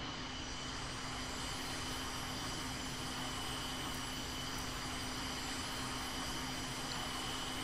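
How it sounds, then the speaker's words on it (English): Jet engines of a VTOL aircraft in the game VTOL VR run at a steady, constant whine and rumble, even and unbroken throughout with no voices. "I think I might have turned on my engines too early."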